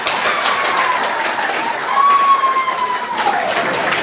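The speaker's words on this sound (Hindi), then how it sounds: "जोरदार ताली सबके लिए।" Audience applause at a press conference after a by-election nomination, a dense wash of clapping from a crowd that swells slightly midway, with a faint whistle-like tone gliding through it.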